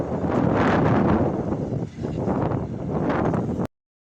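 Steady wind buffets the microphone outdoors in a city, a loud rough roar that rises and dips briefly before cutting off abruptly.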